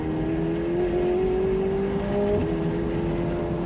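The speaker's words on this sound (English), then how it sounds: "The car just launches you down the road with this crescendo of noise" A McLaren 750S accelerates on the road at dusk, heard from inside the cabin as a steady, rising engine drone that swells in pitch and volume over a few seconds.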